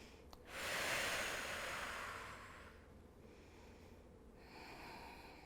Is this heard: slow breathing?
yes